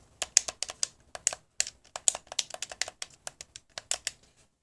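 Buttons on a MOGA Pro Power game controller click rapidly and crisply up close, a quick irregular run of sharp taps with short gaps, with no talking over them.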